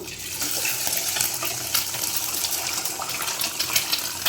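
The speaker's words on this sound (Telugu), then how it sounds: "ఆయిల్ వేడైంది. 2 గుడ్లు పోస్తున్నాను." Two beaten eggs are poured into hot cooking oil for egg fried rice, giving a loud, dense, continuous crackling sizzle with no talk.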